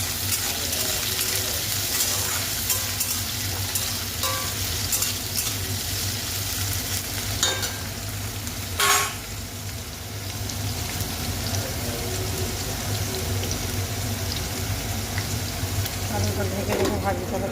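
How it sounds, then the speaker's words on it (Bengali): Potatoes fry in a covered pan, giving a steady, continuous sizzle throughout, with occasional clinks of a utensil and a brief louder scrape midway, heard close up in a home kitchen. "আলুটা ঢেকে রেখে ভাজি, তাহলে তাড়াতাড়ি সেদ্ধ হয়ে যাবে।"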